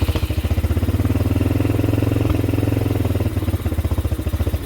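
A small pit bike engine, freshly fitted with a cleaned carburetor, putters at a fast, steady idle with a rapid even firing beat, loud and close, the rhythm wavering slightly near the end.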